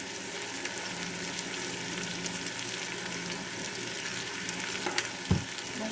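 Seasoned potatoes and onions frying in a pan on medium-high heat, a steady close sizzle with a brief utensil knock near the end, no talking.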